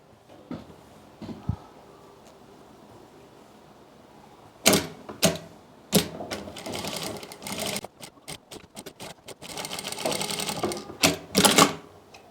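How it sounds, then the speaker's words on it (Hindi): Sewing machine stitching along a kurti's stand collar strip, starting with scattered short clicks, then running in several rapid bursts that grow louder and more continuous toward the end. "पूरी पट्टी के ऊपर हमें सिलाई लगा लेनी है"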